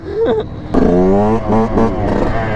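Dirt bikes race past in a revving burst, their engines whining and rising in pitch, loud and close, with a sharp surge in the middle and shifting tones as they accelerate.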